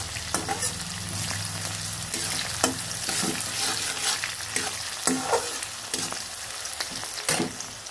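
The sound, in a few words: spice paste and sugar frying in oil for mutton curry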